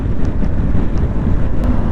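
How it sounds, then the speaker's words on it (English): Heavy, steady wind buffeting a microphone while riding a Harley-Davidson Pan America motorcycle, a loud low rumbling rush that fully masks the engine throughout. "I hear the wind more than I hear the engine"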